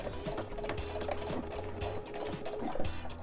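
Sewing machine backstitching an oven mitt, a steady close-up mechanical chatter of the needle with a faint continuous motor hum running throughout.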